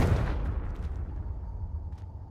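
The Confringo explosion spell in Hogwarts Legacy bursts with one heavy, booming blast, then fades into a deep rumbling tail with a few faint crackles.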